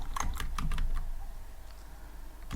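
Rapid, clicky typing on a computer keyboard while writing Python game code, a quick burst of keystrokes up front then scattered taps over a steady background hum.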